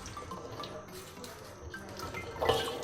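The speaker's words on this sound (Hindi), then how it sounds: "तकरीबन हम पानी डाल रहे हैं इसमें 1 लीटर।" Water poured into a pot of beef nalli nihari, a faint, steady splashing trickle in a quiet kitchen, growing slightly louder toward the end.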